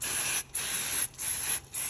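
Liquid Moly intake decarb spray hissing onto the throttle body of a Ford Ranger 3.2 diesel, four steady bursts of close, bright aerosol spray separated by short pauses.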